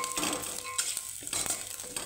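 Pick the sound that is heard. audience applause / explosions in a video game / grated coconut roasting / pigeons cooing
grated coconut roasting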